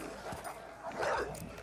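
Several dogs bark, yelp and whimper in a chaotic attack on a man, a dense, fairly loud jumble of canine cries with a louder surge near the end.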